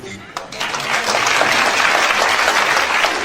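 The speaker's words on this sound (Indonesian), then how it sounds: "coba tepuk tangan" Audience at an Indonesian stand-up comedy show bursts into loud, sustained applause that swells after a brief pause and continues evenly to the end.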